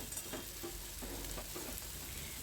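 Onions frying in a pan with salt added, a faint continuous sizzle with soft stirring scrapes throughout.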